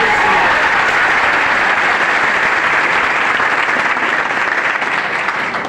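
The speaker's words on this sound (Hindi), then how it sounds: "पहले तो उस व्यक्ति के लिए एक दमदार ताली बजाओ जो व्यक्ति आज आपको यहां लेके आया है।" An indoor audience at a health program claps loudly and steadily as one dense wash of applause. It holds at full strength throughout and eases off slightly only at the very end.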